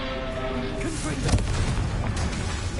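A fire-spell blast from Hogwarts Legacy, the Confringo charge whooshing then bursting into a booming, explosion-like impact amid continuous game noise and a voice calling out.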